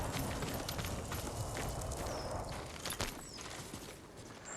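Horse hooves in the video game Ghost of Tsushima clip-clop steadily over a dense, noisy background, with a few sharper thuds and faint high tones mixed in.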